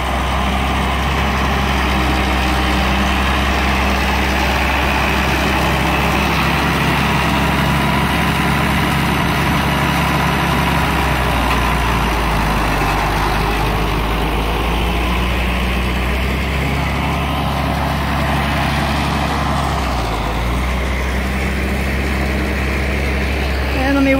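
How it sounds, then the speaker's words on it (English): A big farm tractor engine idles at a dairy, giving a steady low rumble that runs throughout without a break. "And there's Jason on the big tractor."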